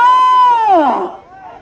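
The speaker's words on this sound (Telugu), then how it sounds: "ఘనమైన సప్పట్లో కేకలు" At a senior-category bullock pulling contest in a Nandyal district village, a loud, sustained shout swoops down in pitch above the background crowd noise, then fades into quieter distant voices.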